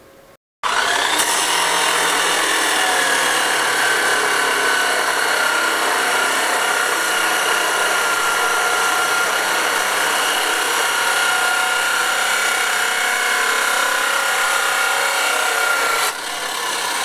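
Power tool cutting metal brackets in half for mounting a solar panel to a roof, a steady continuous whine with a sustained grinding tone running loud and unbroken for about fifteen seconds.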